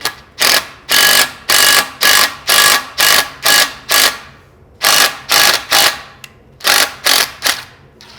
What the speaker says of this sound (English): So I'm going to use a tap. I'm going to tap some threads in there.